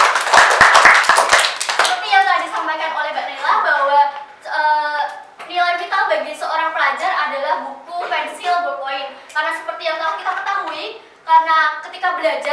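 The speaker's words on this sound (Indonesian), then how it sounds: "Beri tepuk tangan untuk Mbak Naila." Classmates in a school microteaching session give a burst of hand clapping, loud and dense at first, then fading as a teacher carries on talking.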